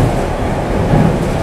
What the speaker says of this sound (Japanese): 列車は最後の停車駅の新寺駅を出発して、もうあとね5分ほどで終点の出雲市に到着します。